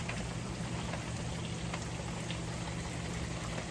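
Steady water patters and splashes continuously from a rain gutter, a dense, even hiss of water falling close by with no voices.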